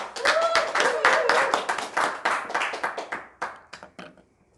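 An audience applauds a lecturer after a marketing talk, with loud, close clapping that starts dense and gradually thins into scattered individual claps before fading out, and a voice briefly audible at the start.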